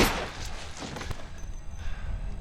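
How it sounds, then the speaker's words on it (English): Gunfire in The Last of Us Remastered, a sharp nearby shot at the start followed by a few more thumping bursts over a continuous, noisy game soundscape. "Gunshot!"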